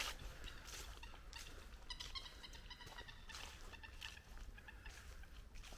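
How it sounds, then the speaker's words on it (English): Coots by a river give faint, scattered clucking and squeaky calls, several short bursts at a distance over a soft outdoor background hiss. "Coots."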